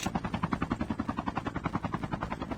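A helicopter in the mobile shooter Call of Duty Mobile (battle royale) gives off a loud, steady rotor chop, with rapid even thumps pulsing throughout and no talking.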